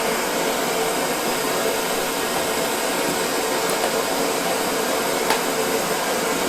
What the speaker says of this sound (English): this little torch is making this room hot